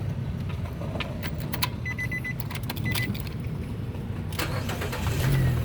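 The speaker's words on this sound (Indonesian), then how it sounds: "Oke, sekarang kita nyalakan mobil." A 2014 Nissan Grand Livina 1.5 X-Gear automatic is started up close, with keys jangling and clicking first and then the engine cranking and catching near the end.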